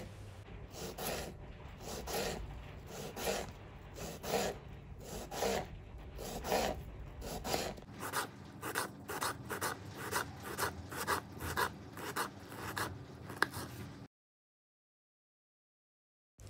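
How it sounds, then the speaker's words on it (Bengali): A handheld vegetable cutter slicing kohlrabi, a fast run of rhythmic rasping strokes close up, steady for several seconds and then stopping abruptly into silence. "এই ভেজিটেবল কাটারটা দিয়ে স্লাইস করে নিয়েছি"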